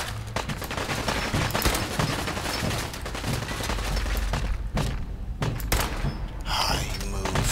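Rapid gunfire in the game Fallout 4, dense bursts of close automatic shots and thuds packed together continuously, with voices talking over the combat.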